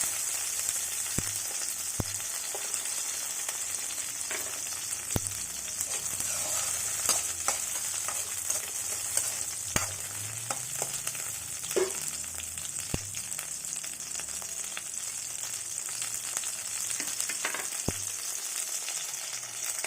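Garlic cloves sizzle in a pan for a fenugreek-leaf chutney, a steady close crackle with scattered pops and clicks of stirring running throughout.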